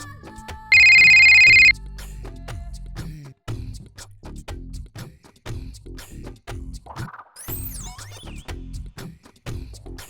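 A mobile phone rings with an early-morning incoming call, a loud bright ringtone burst near the start, then a person speaks in a village home with scattered clatter and a brief electronic chirp.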